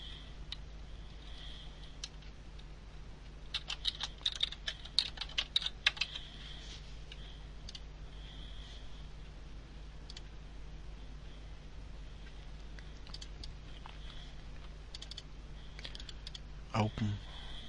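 Keys clatter on a computer keyboard as a root password is typed to log in to a telemetry gateway configurator, quick bursts of close clicks separated by pauses, with a faint steady hum underneath.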